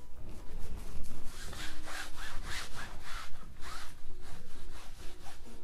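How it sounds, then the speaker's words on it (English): Tissue rubs excess paint off an underpainted canvas in rapid, rhythmic scrubbing strokes, close and continuous with a raspy, scratchy texture. "I'm going to just use some tissue to dry off the excess paint"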